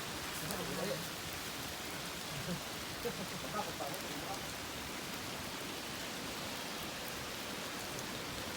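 Steady hiss of rain falling on surfaces in a forest, constant and enveloping, with a few faint knocks and drips.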